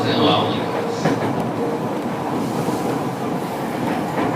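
Traction motors of a Tokyu 5050 series electric train whine inside the car as it runs on a Seibu line, with steady clattering wheel and rail noise, a brief higher tone early on, and the motor hum fairly loud and continuous.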